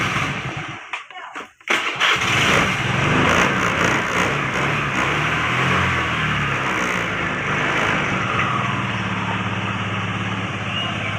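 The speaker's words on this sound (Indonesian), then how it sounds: "Kita coba starter dari starter di ini." Motorbike engine turned over by its electric starter after a battery replacement, a short cranking whir that catches and settles into a steady, loud idle.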